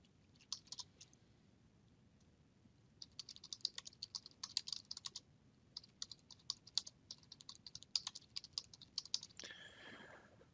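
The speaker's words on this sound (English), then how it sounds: "just continuing to type my requirements as I'm going along" Someone types on a computer keyboard while entering requirements, giving quiet, irregular bursts of key clicks with short pauses in between and a brief sharper sound near the end.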